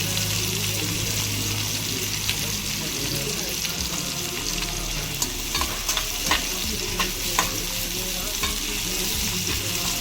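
Onion, tomato and green chillies fry in a pan with a constant loud sizzle, while repeated scraping and clacking of a spoon stirring them grows busier toward the end.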